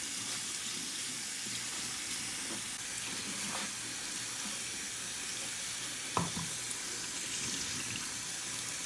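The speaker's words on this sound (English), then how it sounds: "And just give those a good rinse." Split mung beans are rinsed under a running kitchen tap, a steady close hiss of flowing water with faint clicks and knocks, no talking.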